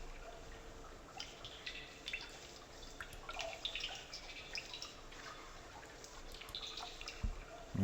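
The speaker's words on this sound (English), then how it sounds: "Look at the water dripping off the walls there." Water dripping off stone walls in the video game realMYST, scattered faint drips and trickles over a low hollow ambience, no speech.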